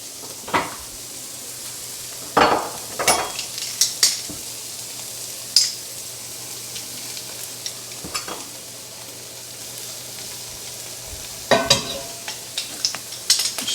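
Garlic frying in a pan while being stirred, a faint steady sizzle broken by several sharp scrapes and clinks of a utensil against the pan at irregular intervals, with no talking.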